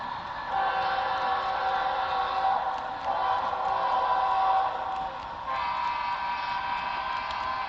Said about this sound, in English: Just the locomotives and the passenger coaches, eh?